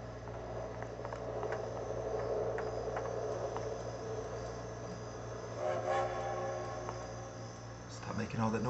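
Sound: train noise in video game

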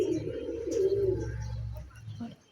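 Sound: pigeons cooing

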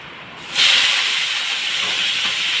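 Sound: potatoes frying in hot oil

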